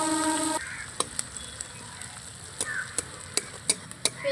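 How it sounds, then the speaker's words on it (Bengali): Chopped onion fries gently in oil, a faint low hiss broken by scattered sharp clicks and taps of stirring, after a short tonal sound at the start. "তো পেঁয়াজটাকে এখন আমি হালকা ভেজে নেব, বেশি কড়া করে ভাজবো না"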